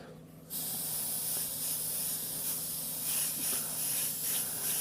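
Spray paint hissing steadily from a can along the edge of a mask on a Pink Panther stencil piece, a continuous close, loud spray after a brief quiet start.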